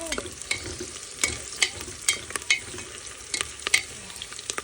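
Onion and garlic fry in a pan with a steady sizzle, broken by sharp scraping and stirring clicks every second or so, close by and fairly loud.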